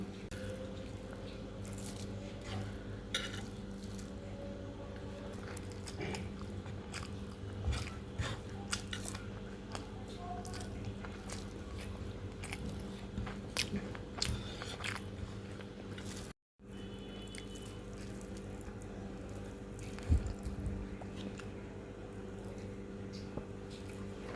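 Rice and dal with vegetable lentil fritters and meat are eaten by hand, with soft, close chewing, squishing and small wet bites over a low steady room hum, faint and with no talk.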